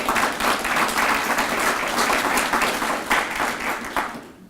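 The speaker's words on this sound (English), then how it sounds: "Give yourself an applause." Audience applause at a county community announcement, even, fairly dense clapping from a sizeable crowd lasting about four seconds before tapering off.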